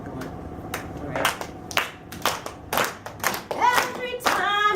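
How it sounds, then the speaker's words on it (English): Audience clapping in time to a fast gospel spiritual, crisp rhythmic hand claps growing more regular, with a singing voice entering toward the end. "It's a fast song, so you guys can clap for me."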